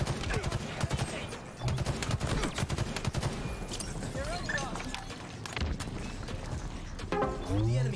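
Rapid gunfire in the shooter Halo Infinite during a multiplayer SWAT match, dense bursts of shots rattling continuously beneath game announcer callouts and player chatter.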